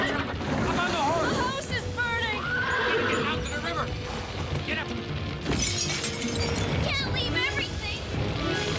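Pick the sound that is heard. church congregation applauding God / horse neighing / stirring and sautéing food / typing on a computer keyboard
horse neighing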